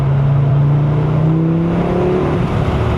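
An Audi RS3 8Y with a JB4 tune accelerating under boost, its engine note rising steadily and loudly as it pulls, heard from inside the car with a continuous drone and no talk.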